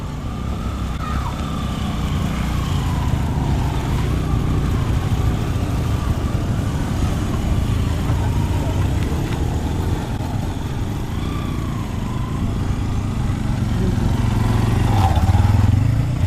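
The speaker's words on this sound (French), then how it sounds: "C'est ma moto que je vais monter, sur laquelle je vais monter." Motorcycle engine running steadily and loudly throughout, with occasional slight rises in revs, outdoors in Kadutu.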